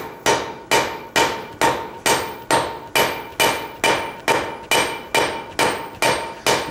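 A blacksmith's cross peen hammer strikes hot metal on an anvil in a steady rhythm of about fourteen loud, ringing blows, evenly spaced roughly half a second apart, close and with no talk.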